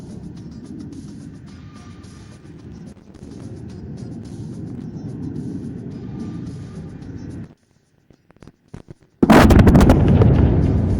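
Air-dropped bombs detonate at an Indian Air Force firepower demonstration: a steady low rumble gives way to near-silence with a few ticks, then a sudden, very loud, sustained blast roar fills the last seconds.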